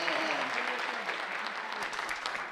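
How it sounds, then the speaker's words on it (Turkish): Applause breaks out for a watermelon-seller figure during a Turkish aşık poetry duel, a dense, even burst of clapping from the crowd lasting a couple of seconds. "Bir alkışlayalım şu karpuzcuya"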